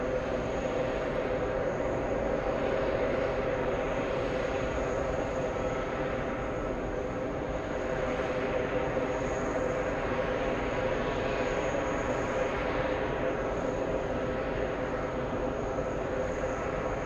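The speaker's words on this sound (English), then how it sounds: "Joining final approach right now, we have a big Delta A330neo, Delta 203 flying in from Athens," A Delta Airbus A330neo from Athens on final approach into JFK gives a steady, moderate engine drone with a sustained high whine, continuous and unbroken, with no speech.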